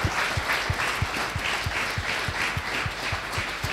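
A church congregation applauds loudly, with a strong rhythmic clapping pulse running through a dense wash of hands, steady from start to finish with no voices on top.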